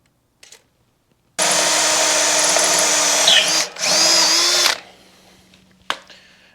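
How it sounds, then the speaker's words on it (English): A power drill bores a hole with its bit lubricated by Tap Magic cutting fluid, a steady loud whine running about three seconds, breaking briefly, then resuming before cutting off, followed by quiet handling clicks. "this Tap Magic stuff makes a big difference with drill bits"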